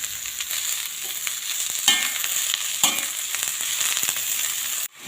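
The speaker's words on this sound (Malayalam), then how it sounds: "സവാള ഇട്ട് കൊടുക്കുകയാണ് ഒരു മൂന്ന് സവാള അരിഞ്ഞത് ഇട്ട് കൊടുക്കുന്നു" Three chopped onions fry in hot oil in a pan for a chicken curry, a steady close sizzle with scraping stirs breaking through the hiss now and then, no voices.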